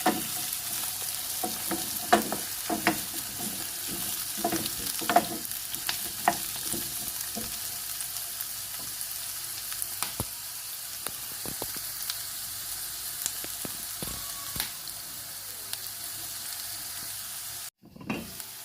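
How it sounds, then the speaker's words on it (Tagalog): Squash and string beans simmer and are stirred in coconut milk with dried fish, giving a steady soft sizzle broken by repeated spoon scrapes and clinks against the pot. It stops abruptly near the end. "Halo-haloin."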